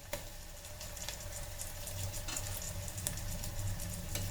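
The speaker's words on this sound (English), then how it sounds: "Fry this for around the 10 seconds is fine." Onions and ginger garlic paste sizzle in oil inside an electric kettle, a steady close frying hiss with crackles and pops running throughout, no voices.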